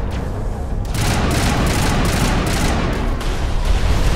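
Rapid gunfire from a weapon in the video game Mass Effect Legendary during a Geth attack on Feros, loud dense bursts repeating without pause, with booming impacts underneath.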